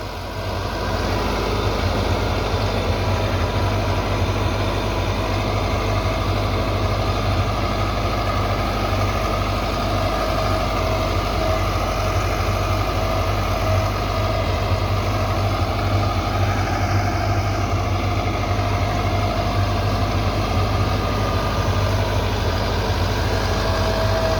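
A Massey Ferguson 385 tractor engine runs at a steady, loud rumble throughout, close up and unchanging, with no voices, around 1500–1800 RPM, during wheat sowing in Punjab, Pakistan.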